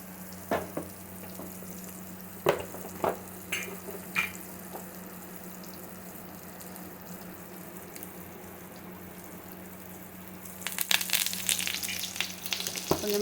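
Sole fish fries in oil on a fish-frying griddle, a soft steady sizzle with scattered sharp taps and pops, growing louder and busier with crackling near the end, no voices.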